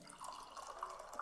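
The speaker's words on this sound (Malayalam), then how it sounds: "നമ്മളെ ചായ നമ്മൾ അരിച്ച് പാരാൻ പോവാണ്" Freshly made chai is strained and poured into a glass, a brief soft trickle of liquid with light splashy drips.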